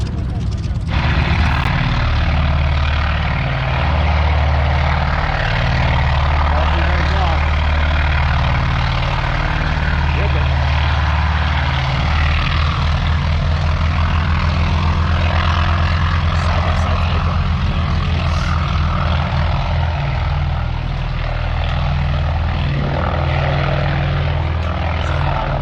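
A propeller-driven airplane's engine drones loudly and steadily at the EAA AirVenture airshow in Oshkosh, Wisconsin, a continuous nearby roar with shifting pitch as it passes, while people talk over it.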